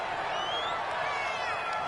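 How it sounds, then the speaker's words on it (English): A stadium crowd in the Madden NFL 21 American football video game roars in a sustained wash of boos and noise after a penalty call, with a commentator talking over it. "Well, this crowd does not like that call."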